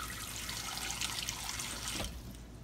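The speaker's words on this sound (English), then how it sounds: "I'm going to put a little water in here, in the bottom of the" Water trickles and splashes steadily into the bottom of a roasting pan holding chicken for cornbread dressing, a close continuous wash of liquid that stops near the end.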